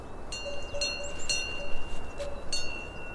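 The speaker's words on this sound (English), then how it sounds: "The far-off bells of grazing cows." Far-off bells of grazing cows ring out in scattered, irregular clangs with a sustained metallic tone, faint and distant over a soft outdoor background hiss.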